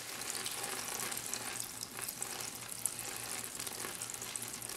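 Water running steadily through a small model stream channel in a meandering-stream lab setup, a continuous broadband trickle and wash that stays fairly even throughout, with a low hum underneath.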